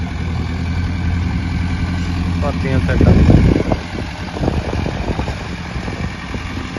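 A heavy tractor pulling a laser land leveller on farm ground rumbles with a low, steady engine drone, swelling louder briefly in the middle, while someone talks over it close by.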